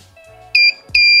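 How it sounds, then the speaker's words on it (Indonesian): A Sunshine P-1505TD bench power supply gives its short-circuit warning: two sharp, loud electronic beeps with a short gap between them, heard alone over a faint background hum. "power supply ini bakalan mengeluarkan suara buzzer atau beep, atau speakernya bakalan bekerja dan mengeluarkan suara 5 ketukan"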